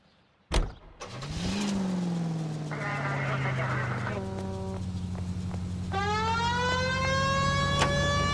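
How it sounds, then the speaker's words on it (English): Police car siren in the video game L.A. Noire, a wailing electronic tone rising over a running car engine, loud and close after a door thud, with no speech. "We have a siren."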